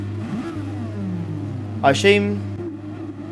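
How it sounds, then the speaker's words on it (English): Engine roar from racing cars in Gran Turismo Sport swells and falls around the midpoint, with a high revving whine sweeping upward, under steady talk and a constant low hum. "I can hear a lot of people revving the crap out of their cars"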